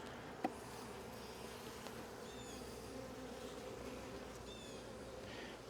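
Honey bees buzz around an open hive during a spring inspection, a faint, steady hum with individual bees droning past and a single soft click.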